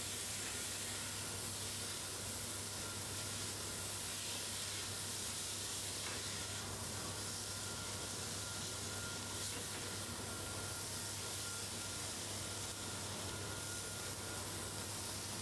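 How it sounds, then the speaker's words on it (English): Beans stirred into onions and garlic frying in a pan for a Caribbean dish, giving a steady, even sizzle that hisses faintly and continuously throughout with no voices. "Give that a stir. Get them all mixed up with the onions and the garlic."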